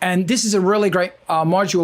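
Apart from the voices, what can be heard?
No everyday noises stand out.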